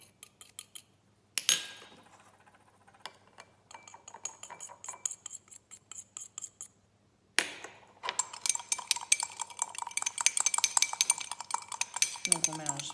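Two fine powders stirred together in a glass beaker, a utensil clinking and scraping against the glass in irregular bursts, with a quieter pause in the middle before busier, louder clinking resumes.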